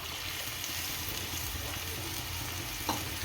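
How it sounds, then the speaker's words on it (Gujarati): Spiced buttermilk (chhaas) boils in a pan, giving a steady close bubbling hiss that holds at an even level, with a single soft knock near the end and no talk. "આપણી છાશ ઉકળી ગઈ છે"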